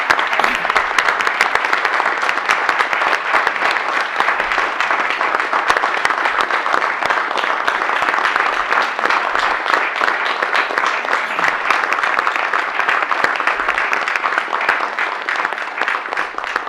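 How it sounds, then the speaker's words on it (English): Sustained applause from a large audience at a city council meeting honoring firefighters, dense steady clapping carrying evenly through the whole stretch without letting up. "So I would like you to give all of my people a round of applause"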